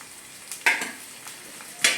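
Onion, green chili, garlic and ginger sauté in a pan, with a soft constant sizzle broken by two brief louder stirring scrapes, close up and without talk.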